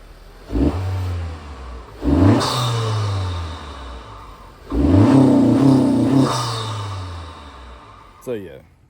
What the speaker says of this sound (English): Give a couple of revs.